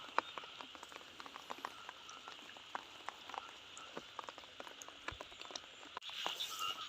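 Steady overnight rain pattering on surfaces at a fishing spot, with scattered sharp drops throughout and a slight rise near the end; no voices.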